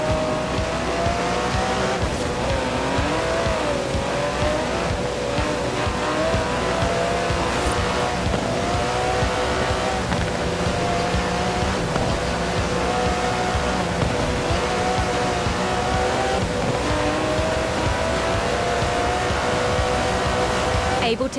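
Aston Martin DB11 with a 5.2-litre twin-turbo V12 in Forza Horizon 4, a continuous loud engine drone that rises and falls in pitch through gear changes for over twenty seconds.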